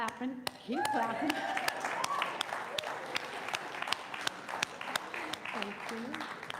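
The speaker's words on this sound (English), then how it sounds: "Keep clapping, keep clapping." A congregation at a church service clapping steadily, the sharp claps spread evenly through the clip, while a voice speaks over the applause at the start and again near the end.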